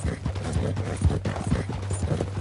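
Horse hooves clip-clop at a steady walking rhythm in Red Dead Redemption 2, close and clear over a low hum, with no talk.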